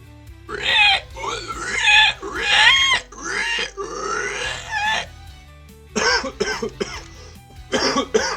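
A human voice imitates a pig squealing as it is slaughtered, giving several loud, harsh, strained squeals and grunts in bursts separated by short pauses.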